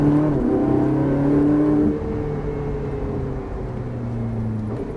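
A Ferrari engine revving hard at full throttle from inside the car: a loud, rising mechanical howl that dips briefly at a gear change near two seconds, then climbs again, with no talking.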